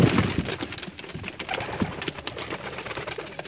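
Pigeons cooing in Umluj, Saudi Arabia, soft repeated coos close by, overlapping one another amid steady rustling and background noise, with no talking.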